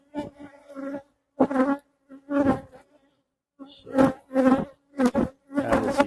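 Honey bees buzz close by during an October hive inspection, coming in separate loud bursts broken by short silences, with no talk.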